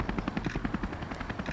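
A helicopter's rotor chops in a steady rapid rhythm, a close, continuous thudding pulse with no voices.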